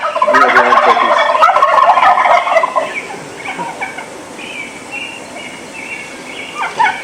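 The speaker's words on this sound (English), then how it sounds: "the gobblers are pretty much gobbling at anything" Rio Grande wild turkeys gobble during a spring turkey hunt, a loud close burst of overlapping rattling gobbles at first, then fainter, more distant calls answering over the quiet outdoors.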